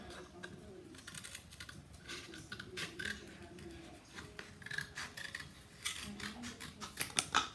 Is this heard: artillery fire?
no